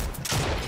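Gunfire in the video game Fortnite, a short burst of rapid shots that sounds loud and dense, with no talking over it.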